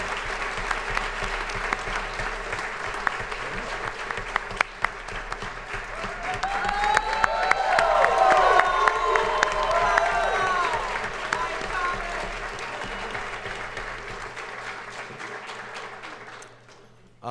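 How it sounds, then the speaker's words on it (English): An audience at a graduation event applauds graduate speakers, sustained clapping from a large crowd building slightly toward the middle before fading near the end. "We could all give them a round of applause."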